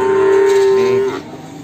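A single loud, close, sustained moo from Limousin cattle at a livestock market in Magetan, steady in pitch for about a second before breaking off into quieter background noise.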